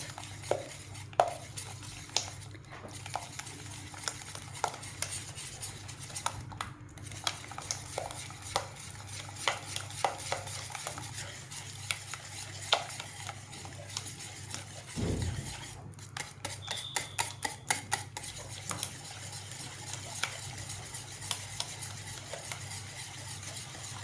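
Cheese stirred into a béchamel sauce for cauliflower gratin: a steady run of soft spoon taps and scrapes against the pot, with a short thud partway through, quiet and close.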